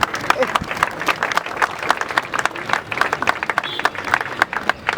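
Audience applause at a funeral tribute for Madame Alain Mabana, a dense, steady patter of many hands clapping close by for several seconds, with voices mixed in.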